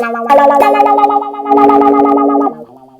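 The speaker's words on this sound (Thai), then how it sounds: "เนี่ยครับเอฟเฟกรุ่นเก่าเสียงมันชัดแบบนี้แหละอนาล็อกจริงๆ" An electric guitar runs through an old Taiwan-made analog BOSS AW-2 auto-wah pedal, with distorted, echoing strummed chords ringing loud and close before fading into a softer wavering tail.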